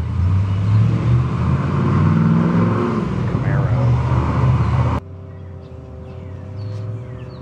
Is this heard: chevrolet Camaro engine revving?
yes